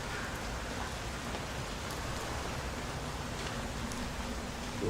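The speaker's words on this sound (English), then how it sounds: "Turned the rain on." Rain falls in the video game Portal: Revolution, a soft, even hiss of drops spread evenly throughout, fairly quiet and with no talking over it.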